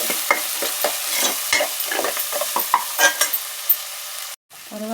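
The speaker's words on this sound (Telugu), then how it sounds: "అల్లం వెల్లుల్లి ముద్ద వేగనివ్వాలి. పచ్చివాసన పోయేలా వేగనివ్వాలి." Ginger garlic paste frying and being stirred in a pan for veg biriyani: a steady close sizzle broken by repeated scraping stirs, ending in a brief silence before clinking.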